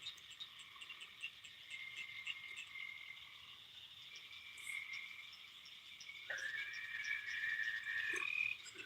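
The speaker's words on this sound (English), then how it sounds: "You guys live in the country. You hear tree frogs all the time." Tree frogs croak at night in the countryside beside a catfishing spot, a dense, steady chorus of high trilling calls with insects mixed in, moderately distant and continuous, with no voices.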